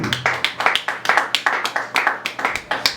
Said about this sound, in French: On va acclamer plus fort